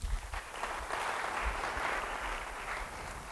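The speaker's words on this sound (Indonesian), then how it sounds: "Yang bilang betul beri tepuk tangan." A church congregation claps together after a sermon prompt, a soft, steady wash of applause held for a few seconds, fairly distant and even in loudness.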